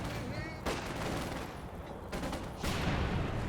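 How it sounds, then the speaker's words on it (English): Artillery barrage in the real-time strategy game Company of Heroes, a series of loud close blasts and rumbling impacts with a continuous crackle of gunfire. "dropping that artillery in"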